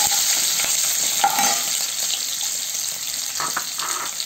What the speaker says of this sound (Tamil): ரெண்டையும் போட்டுக்கோங்க. போட்டு வதக்குங்க.